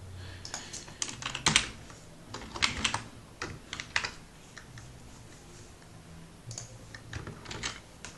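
Fast typing on a computer keyboard with an English layout, close and crisp key clicks in irregular bursts, a few louder strokes standing out, no voices.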